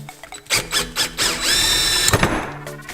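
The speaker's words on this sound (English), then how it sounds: "We're just drilling some holes first." A power drill whirs in short bursts, then bites into material with a high, whining squeal, close and loud.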